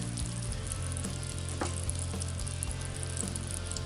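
Two pats of butter melt in a pan, giving a steady, close sizzle with a constant frying hiss and a few faint crackles throughout, no voices.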